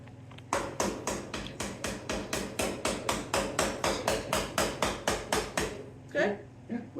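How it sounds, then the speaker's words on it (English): Metal is hammered in a shop with a run of about twenty sharp, evenly spaced blows at a quick steady pace, loud and close, followed by a couple of brief softer sounds. "if I can just hammer something properly"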